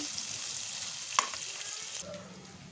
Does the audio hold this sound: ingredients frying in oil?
yes